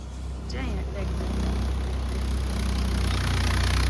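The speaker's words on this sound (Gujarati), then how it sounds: "કાનો ટ્રેક્ટર હાલે છે" A low, steady tractor engine drones throughout nearby, with voices talking over it.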